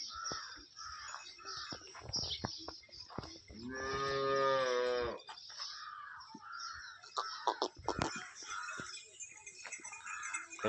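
A single loud, drawn-out moo from a large dairy cow rises mid-clip, surrounded by scattered clatter, brief calls and faint background voices.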